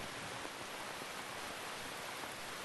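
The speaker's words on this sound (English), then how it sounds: "You can entertain me until the rain stops." Steady rain falls in the video game Metal Gear Solid 3, an even, dense hiss of drops that stays constant and fairly soft, with no voices.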